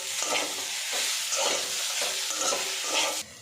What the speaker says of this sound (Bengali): আর একটু নাড়াচাড়া করে নেব।